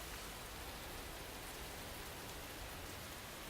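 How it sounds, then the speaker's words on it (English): Steady, dense rain falls in the PokéPark 2: Wonders Beyond video game, a constant even hiss of drops on surfaces with no breaks, at moderate level and heard alone. "And then the rain starts to fall."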